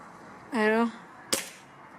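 An air rifle fires a lead pellet at a mobile phone, producing one sharp, loud crack and impact about midway through. A short vocal sound comes just before it against a quiet background.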